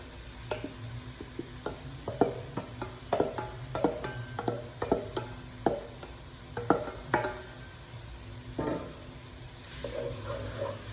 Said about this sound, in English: Give it a nice stir so it all incorporates.